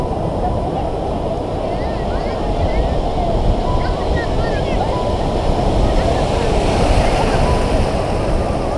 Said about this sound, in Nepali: ठुलो छाला है ठुलो छाला